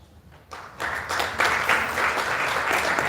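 An audience at a live event on exploitation and abuse in brick kilns breaks into applause for a justice called to the stage, clapping swelling from quiet to a steady, full round.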